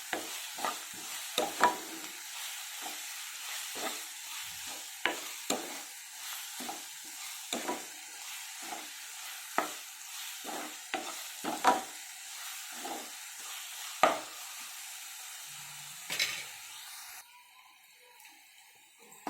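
Ingredients for a South Indian egg curry sizzling in a pan and stirred with a spoon, a soft constant fry under repeated scraping strokes, ending in near quiet.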